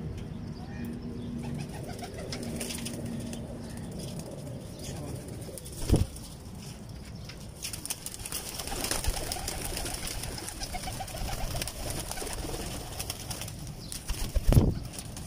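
Pigeons coo softly in a loft, with a couple of sudden bursts of wing flapping and scattered rustling over steady background noise.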